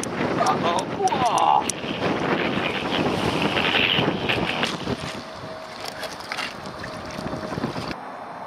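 Gusty wind buffets the microphone around a small robot sailboat on open water, a loud rushing roar that eases off toward the end, with splashing and faint voices underneath.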